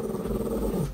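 A dog growls low and steadily at close range indoors, a continuous rumbling snarl that lasts throughout.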